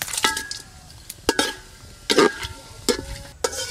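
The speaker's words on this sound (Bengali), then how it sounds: "রাইসের জন্য ফোড়ন হয়ে গেছে," Whole spices (bay leaf, cumin, cinnamon, cloves, cardamom) tempering in ghee in a pot: soft sizzling under sharp intermittent clinks and scrapes of a utensil stirring against the metal, close and moderately loud.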